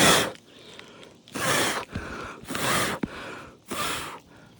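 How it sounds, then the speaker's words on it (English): Four short, strong puffs of breath are blown across worn asphalt roofing shingles to clear off loose granules. The bursts are close and evenly spaced, with quiet gaps between them. "just from me blowing those shingles off, or blowing those granules off"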